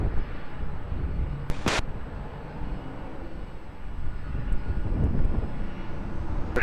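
Near Lisbon Airport, an airplane's engines roar steadily on takeoff, a continuous broad rumble holding at a fairly constant level from start to finish.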